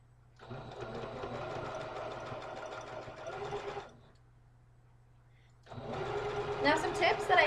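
Sewing machine stitching forward, then in reverse after a button press: two bursts of rapid, even mechanical whirring separated by a short quiet gap, close and clear, with a steady low hum underneath.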